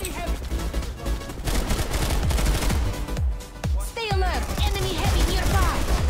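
Shotgun blasts in the online sci-fi shooter video game Planetside 2, loud close shots in a rapid, uneven cluster amid dense battle noise, with squad voices talking over the gunfire.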